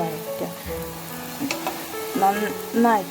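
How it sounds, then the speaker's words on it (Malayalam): Grated carrots sautéing in a spoonful of hot ghee for carrot halwa, a close sizzle and stirring with some faint voice-like tones over it. "1 സ്പൂൺ നെയ്യ് എടുത്തിട്ട് നമ്മൾ ചൂടാക്കിയിട്ട് അതിലേക്ക് നമ്മുടെ ക്യാരറ്റ് ഇട്ട് കൊടുക്കുക."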